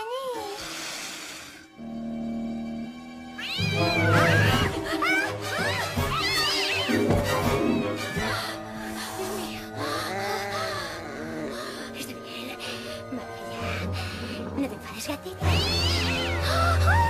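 A cat meows repeatedly with rising, wavering calls, mixed with voices and laughter in a comedy film scene.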